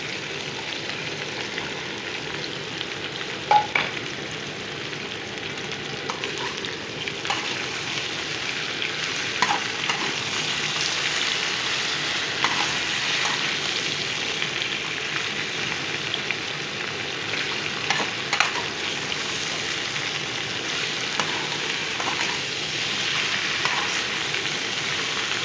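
Okra and potatoes fry in a pan with a continuous, even sizzle, while a utensil stirs them with soft scrapes and light taps throughout.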